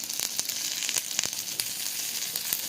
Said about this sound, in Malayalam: ഒരു 1/4 സ്പൂൺ കടുകും ഒരു വറ്റൽമുളക് നുറുക്കിയതും ചേർത്ത് നന്നായി ഒന്ന് ഫ്രൈ ആക്കി എടുക്കാം